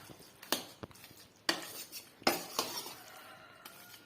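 Cooked rice being mashed with a spoon in a pot for bisibelebath, with several sharp metal clinks and soft squelching presses at irregular intervals, close and fairly quiet, with no talking.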